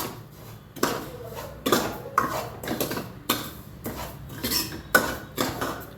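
Semolina (rava) fries in oil in a pan while a metal spoon repeatedly scrapes and clanks against it, giving about eight sharp, close stirring strokes over a low background.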